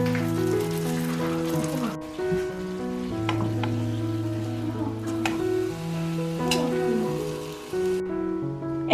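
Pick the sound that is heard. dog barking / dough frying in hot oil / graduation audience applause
dough frying in hot oil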